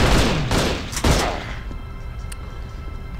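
Gunfire from the video game Dredd Vs. Death: a dense burst of loud, close shots with sharp cracks in the first second and a half, then fading into a quieter reverberant tail with a faint later report.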